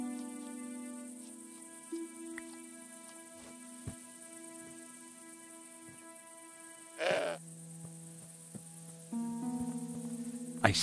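A goat in Broken Sword 5, set in Spain, bleats a few wavering cries over a quiet bed of insect chirps and soft game music, with no voices.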